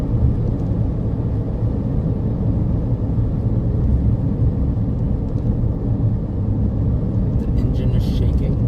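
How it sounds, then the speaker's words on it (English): Wind rushes in through a car window left unsealed by Starlink wires, a steady broadband roar layered over low road rumble, continuous and fairly loud throughout at highway speed. "That's the wind that you're hearing, I think."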